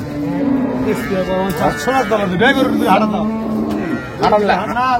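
Hybrid dairy cow at Raniganj cattle market in Dinajpur giving several long, deep moos in close succession, loud and near, with people talking around it in the busy market.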